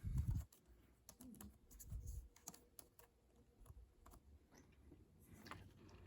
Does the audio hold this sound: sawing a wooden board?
no